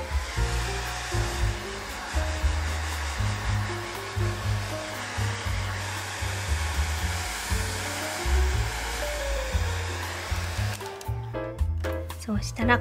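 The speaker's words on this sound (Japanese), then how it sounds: "こんな感じでかけたらドライヤーで乾かします。" A hair dryer blows in a steady, loud whoosh while drying a watercolor pencil painting, with its airflow fluttering and shifting slightly as it moves, under a voice explaining the process.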